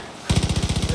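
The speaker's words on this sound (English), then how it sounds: "There's somewhere there's too many gunshots being fired." Rapid automatic gunfire bursts in a Far Cry New Dawn shootout, a loud, fast rattling string of shots starting abruptly after a brief quiet moment.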